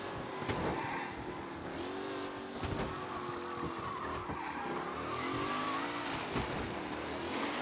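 A car engine revs through a street race in the video game Mafia: Definitive Edition, a sustained engine drone with shifting pitch, tire squeals and skids, fairly faint and steady throughout.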